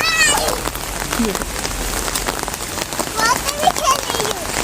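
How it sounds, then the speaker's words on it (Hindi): Heavy rain pours down in Karachi in a dense, continuous hiss, with a high meow-like cry heard over it early on and later. "अभी बड़े मज़े की बारिश हो रही है कराची में"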